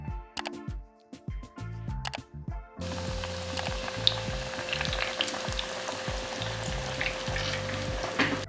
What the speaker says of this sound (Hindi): अब इसके अंदर मैं चिकन बाइट्स को डालता हूँ।